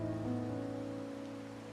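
Steady rain falls in the video game Wuthering Waves, a continuous even hiss with a low tonal hum of background music underneath, no voices.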